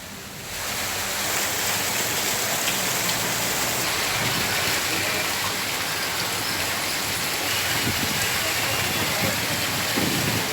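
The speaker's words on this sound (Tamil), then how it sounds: "கடலூரில் வளிமண்டல சுழற்சி காரணமாக மழை பெய்து வரும் அந்த காட்சிகளை நாம் தற்போது பார்த்து வருகிறோம்" Heavy rain pours down in Cuddalore, a dense, steady roaring hiss that swells in within the first second and then holds loud and unbroken for about ten seconds.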